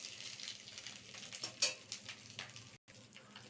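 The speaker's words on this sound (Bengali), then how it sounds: "এইভাবে ডিমগুলোকে উল্টে পাল্টে ভেজে নিতে হবে।" Fish roe fries in a pan with a soft, continuous sizzle and a few faint stirring sounds, with one brief dropout.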